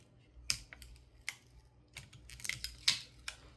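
A sticker peeled off a new motherboard gives a few quiet, sharp crackles and ticks, spaced irregularly with faint rustling between them, close and soft with no voices.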